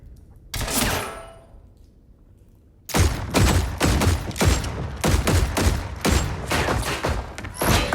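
Rapid gunfire in the Mortal Kombat fighting game: one loud burst fades into quiet, then a dense, sustained volley of close, sharp shots rattles on without pause.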